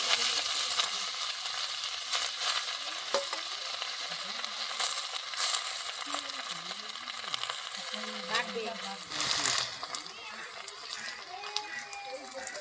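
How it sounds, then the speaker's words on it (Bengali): Washed water lily flowers dropped into a hot frying pan, giving a continuous moderate sizzle with stirring scrapes, while a person talks over it and a brief louder burst comes near the end. "এই যে সেই শাপলা ফুল ধুয়ে নিয়ে আসছি, এই ফুল দিয়ে দিচ্ছি"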